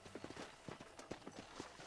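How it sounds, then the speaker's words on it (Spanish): Horse hooves clip-clopping in the Red Dead Redemption video game, a quick, even trotting rhythm of muffled thuds under a steady background hum. "Monta tu caballo."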